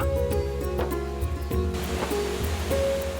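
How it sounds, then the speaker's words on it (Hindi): Flowing water from a waterfall in a garden, a steady rushing wash heard alongside background music with tonal notes layered over it. "वो देखो झरना।"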